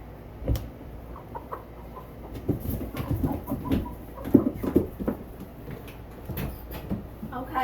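A silver laced Wyandotte hen clucks in soft, irregular bursts close by, mixed with light rustling and scratching sounds over several seconds.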